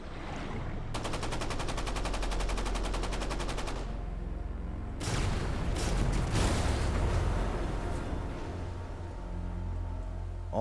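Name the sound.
American submarine torpedo salvo hitting convoy ships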